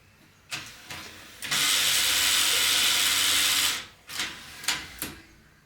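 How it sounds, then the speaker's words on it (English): Free-spinning cog in a 3DO FZ-1 console's disc tray mechanism, short mechanical clicks and whirs, then a loud sustained grinding rattle for about two seconds, followed by several more brief ratcheting bursts. "The source of that horrible sound is this cog as it free spins."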